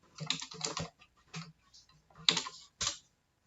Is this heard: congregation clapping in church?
no